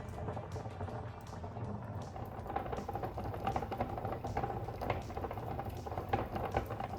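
Water bubbles and patters at a steady rolling boil around sealed jars, with small knocks and rattles throughout, close and moderately quiet, no voices.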